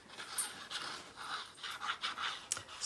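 A dog pants behind a person at a crafting table, with quick, breathy, rhythmic puffs that stay soft and steady for about three seconds. No one speaks.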